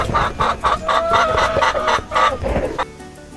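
Gen Piroco hens on an agroecological farm cluck loudly and close in a steady run of rhythmic calls, with no voices present.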